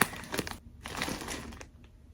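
A yarn-haul package is opened with small crochet scissors, close plastic crinkling and crushing in a few separate bursts with short quiet gaps, fairly soft and with no talk.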